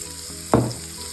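Garlic dropped into melted butter in a pan gives a sudden loud sizzling burst that fades within about half a second over a steady background hum.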